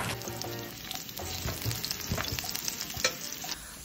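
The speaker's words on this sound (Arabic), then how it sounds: "ونبدا نقلب التومة اول شيء تومة لازم سيرج ونحط اول شيء التومة حد ما يصير لونه هيك اصفر" Garlic sizzles in a pan while being stirred, a bright, close frying hiss broken by scraping and tapping from the utensil, with no voices.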